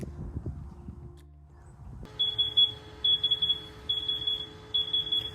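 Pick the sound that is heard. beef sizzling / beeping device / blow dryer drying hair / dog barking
beeping device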